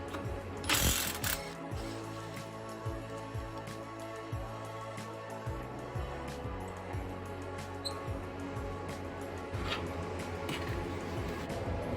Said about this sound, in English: remove the sway bar end link bolts, which is a 19 millimeter from each side